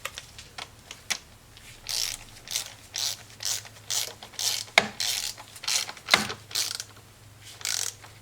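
A 3/8-inch ratchet snugging spark plugs on a 2011–2016 Chevrolet Cruze engine clicks in irregular short bursts, with a few sharper knocks and a low steady hum beneath, close by and without speech.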